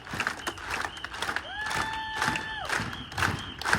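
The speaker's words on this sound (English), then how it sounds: "Put a clap on it. Clap like this." Outdoor rally crowd at the Rhode Island State House cheering and clapping loudly, with a sustained whistle-like tone and scattered shouts layered over the dense crowd noise.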